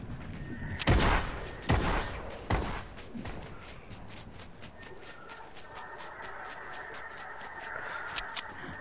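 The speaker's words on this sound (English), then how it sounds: "Oh no, there's people shooting over there." Fortnite gunfire cracks out in a few sharp, loud shots near the start, then a rapid, fainter string of distant shots continues behind quiet background sounds.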